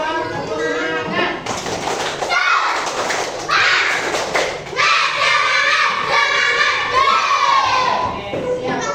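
A class of fourth-grade schoolchildren performs the rhythmic tepuk semangat clapping chant, with loud voices chanting together over steady claps and thumps. The sound is close and lively in the classroom.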